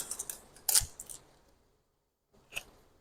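A small free skincare product package is opened up close: crisp plastic and paper crinkles and snips, a pause of near silence, then one more short rustle.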